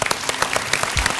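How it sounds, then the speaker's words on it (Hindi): A studio audience at a Hindi television game show breaks into brief applause, a quick burst of close, rapid clapping. "तालियां।"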